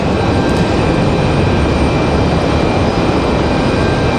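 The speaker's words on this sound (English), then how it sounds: "Iceland Ice 821 coming in from Reykjavik." Icelandair flight 821 from Reykjavik comes in at Raleigh-Durham airport as a steady, loud jet roar that holds throughout with no pause.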